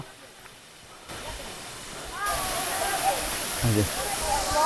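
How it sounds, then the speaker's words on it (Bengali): Rushing water from Madhabkunda waterfall hisses and roars, growing louder partway through, with a brief voice-like sound near the end. "আমরা চলে এসেছি সেই কাঙ্ক্ষিত ঝর্ণা মাধবকুণ্ড ঝর্ণা"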